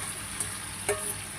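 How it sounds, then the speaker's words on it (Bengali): Chicken pieces sizzle in a hot pan during cooking, a steady close frying hiss with a couple of soft stirring clicks. "এইটাকে একটু এবার আমি ভাজবো।"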